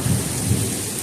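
A quick pop-up thunderstorm: a deep, loud rumble of thunder rolls over a steady, dense wash of falling rain, with no voices.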